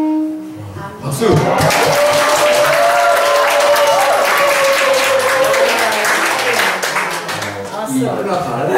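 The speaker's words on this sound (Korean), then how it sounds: "박수!" A worship congregation breaks into loud, sustained clapping that swells after a brief lead-in tone, continuing steadily to the end with crowd voices mixed in.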